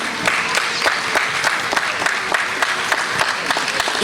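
A school stage event for Telugu ManaBadi children, where an audience claps in steady, dense applause that holds throughout, close and fairly loud.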